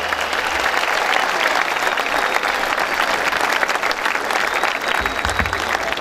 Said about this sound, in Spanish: Eso que se escuchan los aplausos.